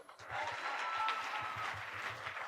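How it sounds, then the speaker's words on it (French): A church congregation applauds together in a steady wash of clapping that holds for the whole stretch, with a faint voice drifting over it. "Maintenant, applaudissez pour la douceur."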